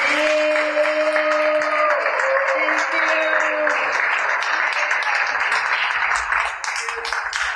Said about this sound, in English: we want to give Brother Michael Muhammad a hand clap